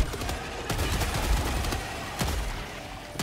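Sustained rapid gunfire in Helldivers 2 as players shoot into a glowing core, loud and dense with sharper individual shots cutting through now and then.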